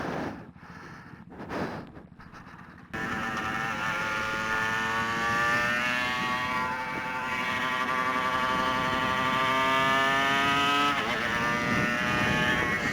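A Suzuki RGV250 two-stroke motorcycle ridden on a track, its engine holding a loud, buzzing high rev pitch with rising tone and wind rush, close and continuous after a brief quieter start, with no voices.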